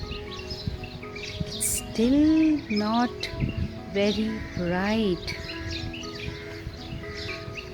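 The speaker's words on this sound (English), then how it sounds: "I hear the birds chirping." Small birds chirping and calling in short warbling bursts on a still-dark early morning outdoors, mid-distance, while a person speaks over them.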